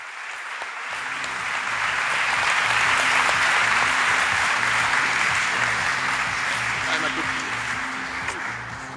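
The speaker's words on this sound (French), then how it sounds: "sous un tonnerre d'applaudissements" A large audience at a Paris Hôtel de Ville expo gives sustained, dense applause to welcome a speaker, swelling quickly after a quiet start and holding steady throughout.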